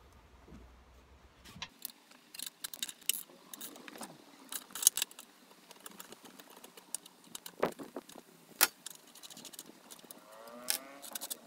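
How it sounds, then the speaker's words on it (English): Ratchet loosening 13mm bolts on a Citroen C1 driver's seat, heard as quiet, irregular clicking and metallic ticks in short bursts with handling knocks, close and fairly faint, no talking. "13mm, I'm going to unbolt it."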